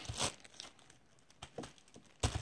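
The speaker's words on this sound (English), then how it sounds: "Put the fork inside a plastic bag." A plastic bag crinkles and rustles around a fork in quick, faint bursts, with soft crackling handling noises between louder crumples.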